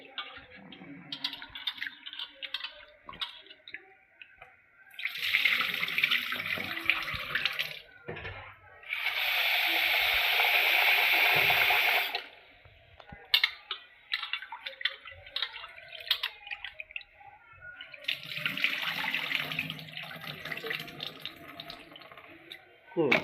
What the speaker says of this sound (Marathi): चांगले 2 पाण्याने तांदूळ धुवून घेतले।